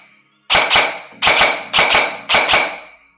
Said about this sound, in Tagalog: Pagka-trigger nyo, puputok siya. Pagka-bitaw nyo, puputok din siya.